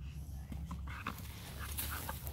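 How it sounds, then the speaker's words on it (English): Puppies playing together, with soft whimpers, yips and quick panting breaths close by over a steady low rumble, continuous and lively throughout. "You're being very good puppies."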